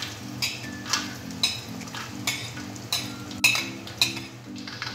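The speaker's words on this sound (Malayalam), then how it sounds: "ഇപ്പൊ നെയ്യ് നല്ലായിട്ട് ചൂടായിട്ടുണ്ട്. ഇതിലോട്ട് നമുക്ക് തേങ്ങാക്കൊത്ത് ആഡ് ചെയ്ത് കൊടുക്കാം." A utensil scrapes and clinks rhythmically against a pan as coconut pieces fry in hot ghee, repeated stirring strokes about every half second over a faint, steady sizzle.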